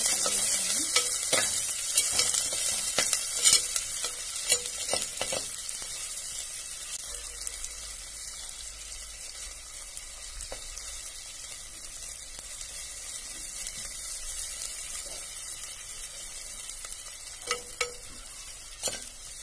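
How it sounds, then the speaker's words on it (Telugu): Chopped onions fry in hot oil in a village kitchen, a steady hiss running throughout with frequent scraping stir strokes and clinks close by, no voices. "ఆయిల్ కాగిన తర్వాత ఎర్రగడ్డలు, ఎర్రగడ్డలు కొంచెం ఎర్రగా వేసుకోవాలి."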